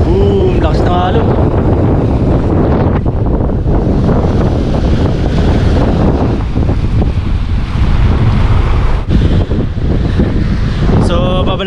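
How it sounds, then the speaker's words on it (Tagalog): Loud surf roars continuously, with strong ocean waves crashing amid heavy wind buffeting the microphone at a beach in Forster, New South Wales, Australia; a voice is faintly present. "Boom, lakas ng alon."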